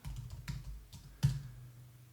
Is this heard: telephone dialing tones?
no